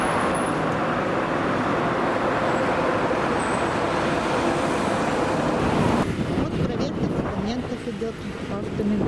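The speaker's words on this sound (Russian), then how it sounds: "Сегодня вот у нас выходной, а машин много ездит." Road traffic flows steadily in Bishkek during the May 2020 quarantine, a continuous broad rumble and whoosh of many passing cars with wind buffeting the microphone, while someone talks over it.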